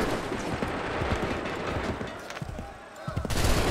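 Musket volleys crack out in an Assassin's Creed 3 battle, dense rattling shots over a rumbling din, with shouted voices mixed in and a brief lull before the firing swells again.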